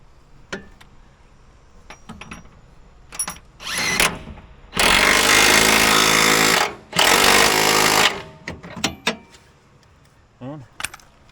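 A power tool, likely an impact wrench, rattles in two loud bursts of two to three seconds each while tightening lug nuts or bolts on a Ford Bronco Sport during a lift install, with clanks and light talk before and after.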